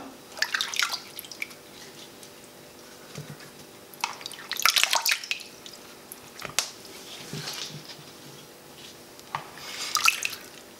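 Thin-sliced potatoes are lifted out of their soaking water for homemade chips, sending bursts of trickling drips and splashes back into the bowl at irregular intervals, close up, with quiet pauses between each lift.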